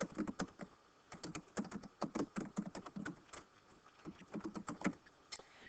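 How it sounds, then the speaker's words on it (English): Someone types a word on a computer keyboard, producing a quick irregular run of close, crisp key clicks with a brief pause midway and no talk. "Let's just type the word resources."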